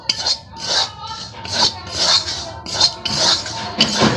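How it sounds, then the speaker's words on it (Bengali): Rice flour roasts in a pan while being stirred, a series of about eight close, dry scraping strokes in a steady, unhurried rhythm. "চাল গুঁড়িটা আমি ভেজে নেব ভালো করে"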